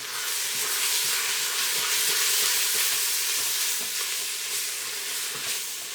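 Spices being stirred and sizzling in a pressure cooker while making butter chicken: a steady, loud hiss of frying with soft scraping from the stirring, close up and with no talking.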